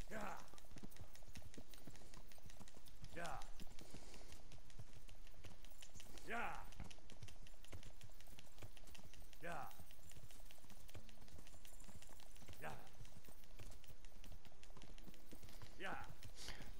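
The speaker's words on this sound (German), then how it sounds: "Jetzt reiten wir erstmal zum nächsten Müller" Horse hooves clip-clopping on a ridden horse in Kingdom Come, with strong hoof strikes at regular intervals of about three seconds over a steady ambient background and quiet speech.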